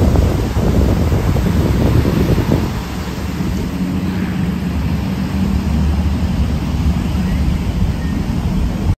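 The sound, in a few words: waves on a beach in Krabi, Thailand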